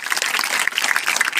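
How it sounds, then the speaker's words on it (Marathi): Dense, loud applause from an audience in honour of teachers at a school gathering, a continuous wash of many hands clapping at once with no pauses. "सगळ्या शिक्षकांसाठी सर्वांनी जोरदार टाळ्या वाजवायच्या."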